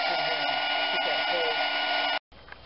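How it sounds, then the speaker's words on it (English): Blow dryer running loud and steady to heat and soften a rubber hose on a GM 3.4L engine's rigid pipe, a continuous close whir that cuts off abruptly near the end. "So what I'm going to do is turn a blow dryer on."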